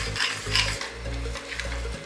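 Thick besan pithla batter with cucumber stirred in a pot, a steady scraping swish repeating every half second or so, close and clear with no voices.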